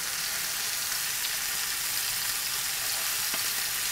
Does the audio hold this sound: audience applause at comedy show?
no